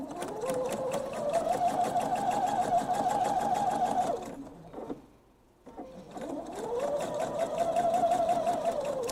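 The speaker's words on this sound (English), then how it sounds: "on this one I actually am going to do a little back stitching" A sewing machine runs steadily while back stitching through fabric and interfacing for a thread catcher, pausing briefly in the middle as the stitch reverses, then running again close and alone.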